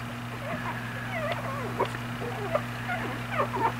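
Puppies whimper and whine in a rapid string of thin, rising and falling squeaks, close and fairly soft, over a steady low electrical hum.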